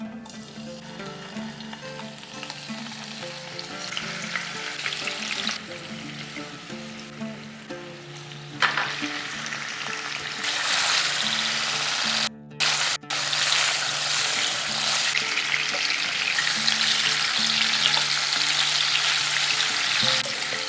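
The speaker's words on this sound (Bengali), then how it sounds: "এরপরে প্রথমেই পনিরটা ভেজে নেব।" Paneer pieces fry in hot oil in a pan, a dense continuous sizzle that swells louder partway through as pieces shift, with brief interruptions and no talking.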